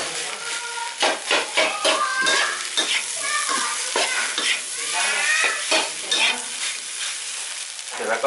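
Thai fried rice in a traditional red sauce, with rice slightly wet, is stir-fried in a pan, giving steady sizzling broken by repeated scraping and clanking strokes of a utensil against metal, close and fairly loud, with a brief spoken phrase near the start.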